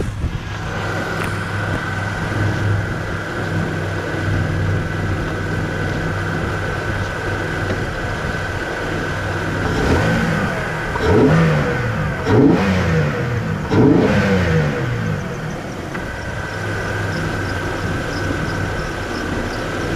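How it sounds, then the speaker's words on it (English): A 4th-generation Pontiac Firebird engine fitted with a cold air intake, heard up close as a steady idle broken by a few quick revs with an intake rush in the middle, then settling back. "you can actually hear the suck, like when the air filter sucks in the air"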